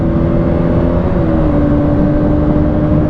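Two motorcycles, a KTM Duke 200 and a Bajaj NS200, each carrying a pillion, in a drag race. Their engines drone steadily and loudly throughout, with a sustained high-revving whine that shifts pitch slightly, and no talk.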